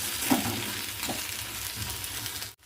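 Udad palya with chilli powder and spices sizzles and fries in a pan while being stirred, a continuous close crackling hiss with a few scraping strokes, ending in a brief cut.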